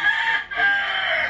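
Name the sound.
rooster crowing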